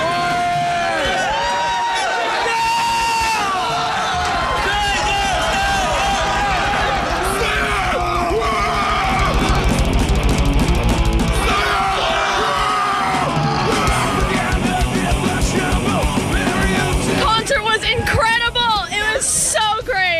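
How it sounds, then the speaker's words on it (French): An after-concert crowd of fans yells back and forth in rival chants. The roar of many voices is loud and constant, with whoops and shouts rising over a dense babble throughout. "Le monde, il a l'air de se gueuler."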